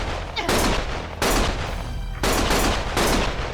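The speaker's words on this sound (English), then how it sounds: "Stop shooting!" Heavy gunfire in the video game Lost Judgment: loud, sustained bursts of shooting that come in several long, dense volleys with brief gaps between them, with no talk over them.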